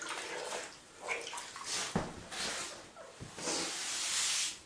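Water splashing and spraying across a freshly grouted tile entryway floor as it gets rinsed, coming in uneven bursts with a steadier hiss near the end, close by and moderately loud.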